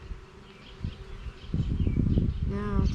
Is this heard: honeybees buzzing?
yes